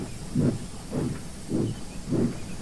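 A steam train chuffs at an even, unhurried beat, four heavy puffs with a hissing edge, steady and fairly close.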